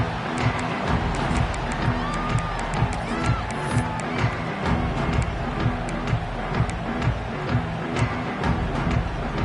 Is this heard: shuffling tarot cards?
no